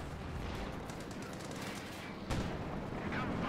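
Pak guns and a Pershing tank open fire in Company of Heroes 2, a dense, continuous barrage of shots and blasts with a sharp louder burst partway through, set against faint talk.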